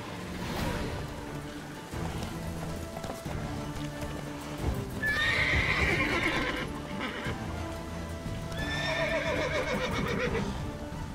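Roach the horse in The Witcher 3 on PC, whinnying twice amid clopping hooves and ambient game sound, fairly close and clear, with no speech over it.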